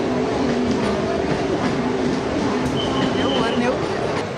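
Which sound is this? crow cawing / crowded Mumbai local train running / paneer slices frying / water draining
crowded Mumbai local train running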